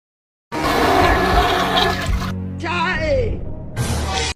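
A cartoon toilet flushes in a loud, sustained rush of swirling water that surges, dips briefly, then rises again before cutting off, with no voices over it.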